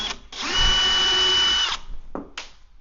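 A power drill whirs steadily for over a second at close range while mounting a TV near a wall, then a couple of short bursts follow as the trigger is squeezed again.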